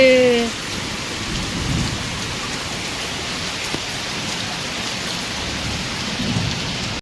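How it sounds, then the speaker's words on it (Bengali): Heavy rain pours down steadily in a loud, dense wash of noise that holds without pause, with a brief tonal sound right at the start. "প্রচুর বৃষ্টি হচ্ছে আজকে"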